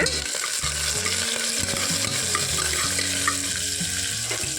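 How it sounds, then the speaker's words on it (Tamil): Onions with green chilli and curry leaves frying and being stirred in a pan, a steady close sizzle with scraping stirs and some watery hiss, no talk. "பச்சை மிளகா போட்டுக்கலாம் வெங்காயம் போட்டுக்கலாம் கூடவே கருவேப்பிலை சேர்த்திட்டு நல்லா வெங்காயம் நல்லா வணக்கி விட்டுர்லாங்க"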